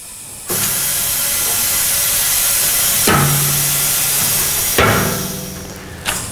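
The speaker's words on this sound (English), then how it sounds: "it'll bring the hoppers up to the manifold, then it'll bring the manifold up to the top tank" A pharmaceutical powder dispensing system raises its hoppers up to the manifold with loud, continuous pneumatic hissing, broken by sharp mechanical clunks and bursts of air at a few points.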